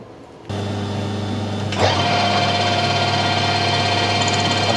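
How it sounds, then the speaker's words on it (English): A metal lathe spinning at 1000 RPM while machining a taper on a scriber, a steady motor hum and whine that starts abruptly and grows slightly louder as the cut engages, continuous and close. "I've got the lathe running fairly fast, 1000 RPM, but may need to speed up."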